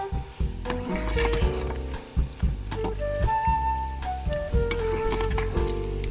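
Sweet potato balls fry in hot oil with a steady, close sizzle and occasional bubbling crackles, running continuously under faint tonal background sounds.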